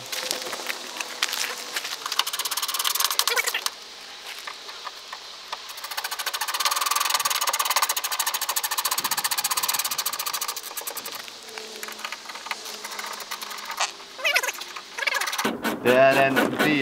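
A B19 car engine runs close by with a rough, loud, buzzing mechanical drone that rises and falls in intensity over several seconds, with some clattering knocks in the later part.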